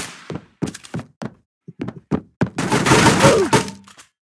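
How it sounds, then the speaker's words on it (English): Gunshots in the Roblox video game ring out as a string of separate sharp thuds, then a denser burst of rapid fire, loud and close with no talking. "Why are you shooting me?"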